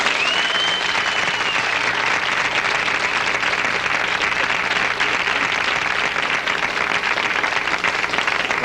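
A 1970s television talk-show studio audience applauds steadily and densely throughout, a loud unbroken wash of clapping with no talk over it.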